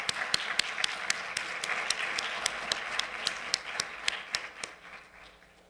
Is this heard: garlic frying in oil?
no